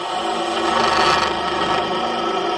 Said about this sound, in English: if you just stick it straight in, it drills really well. And then is amazing at slicing that wood coming out.